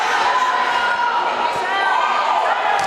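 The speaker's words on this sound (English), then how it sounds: "Crowd still cheering after that nice bucket by Parton" Crowd noise from spectators at a women's college basketball game, a steady loud wash of cheering and chatter lasting throughout with no pause.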